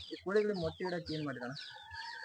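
Several chickens clucking close by in a short burst of rapid, throaty calls, then softer clucks trailing off.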